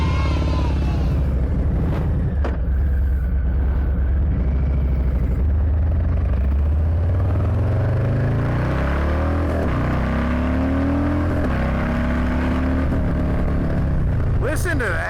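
A Harley-Davidson Low Rider ST motorcycle pulls away and accelerates on the road, its deep engine rumble rising through the gears, loud and close with steady wind buffeting.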